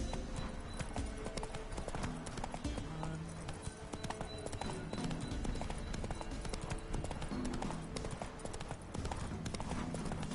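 Horse Roach galloping in the video game The Witcher 3, a rapid continuous clip-clop of hooves throughout, with faint talk underneath.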